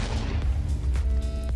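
Beds and respawn anchors blow up in Minecraft, a loud booming blast followed by a couple of sharper explosive bursts in quick succession.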